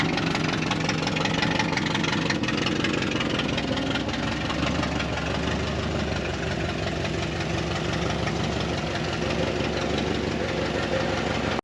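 A 1962 Ford Fairlane barn find runs with a horrendous, leaky exhaust, idling close and loud in a rough, steadily ticking and knocking rumble with no talking.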